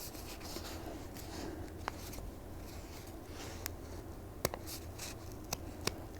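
Soft snipping and rustling of scissors cutting through paper, with occasional sharper clicks of the blades standing out over a low, steady background.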